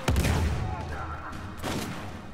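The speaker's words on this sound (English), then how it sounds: "Hey buddy, can you survive a grenade?" A grenade blast in the video game Uncharted 4: A Thief's End opens with a sharp, loud boom, followed by a rumbling, crackling tail. Voices talk over it.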